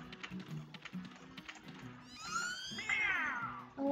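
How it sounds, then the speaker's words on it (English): A cat meows in the Frogger video game, a drawn-out rising and falling caterwaul that swells loudly over a busy backdrop of looping game music and effects. "Oh, and there's that cat waiting."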